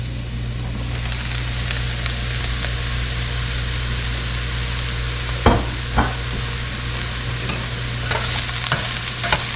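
Eggplant chunks stirred with softened onions in a pan over reduced heat, giving a steady sizzle with a few sharper utensil scrapes partway through.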